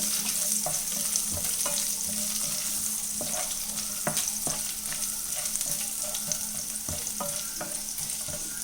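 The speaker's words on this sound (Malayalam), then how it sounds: "കശുവണ്ടിപ്പരിപ്പും തേങ്ങാക്കൊത്തും ഒന്ന് മൂത്ത് വന്നതിന് ശേഷം നമുക്ക് കിസ്മിസ് ഇട്ട് കൊടുക്കാം." Cashews and coconut pieces fry in hot fat in a pan for a pumpkin banana pudding, a constant crackling sizzle broken by sharp scraping clicks of stirring.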